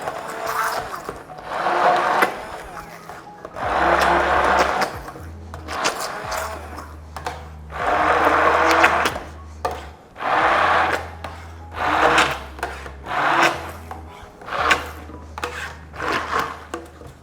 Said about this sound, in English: really you can blend this to the consistency that you like